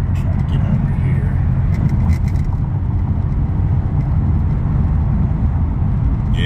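Heavy road traffic around Thanksgiving, a loud continuous low rumble of cars rolling past close by, steady and unbroken throughout.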